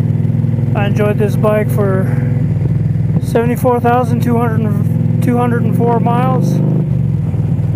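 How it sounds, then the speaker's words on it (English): A 2014 Triumph Thunderbird LT motorcycle engine drones steadily at cruising speed while someone talks over it throughout. "Farewell ride of the Triumph Thunderbird LT 2014."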